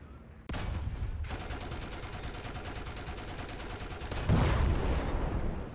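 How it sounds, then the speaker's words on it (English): Gunfire in the War Thunder video game: loud rapid automatic bursts rattle steadily for several seconds, then a heavier blast surges near the end. "Where are they shooting me at? Why would you shoot me there?"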